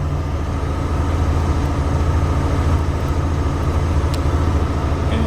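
A vintage RV's engine runs steadily at about 3,100 RPM during a winter start-up, giving a continuous, fairly loud low drone with an even hum and no talk over it.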